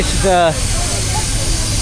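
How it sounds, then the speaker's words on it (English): A loud, steady hiss of escaping steam from a Foden steam wagon runs throughout, with a short tonal whine near the start. "It's a Foden steam wagon."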